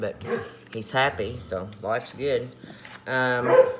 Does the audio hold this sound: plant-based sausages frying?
no